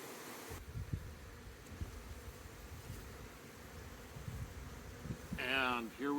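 Honey bees hum around an opened hive in a low, continuous buzz, moderately quiet, with faint rustling and handling noises and a brief louder whine near the end.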